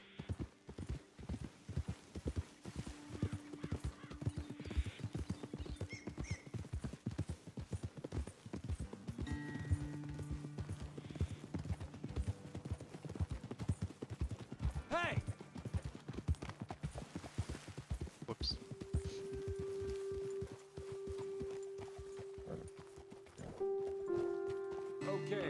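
Horses' hooves clip-clop steadily in Red Dead Redemption 2, an even walking rhythm of many close hoof strikes running throughout, joined by low tonal hums and occasional faint whinny-like sounds.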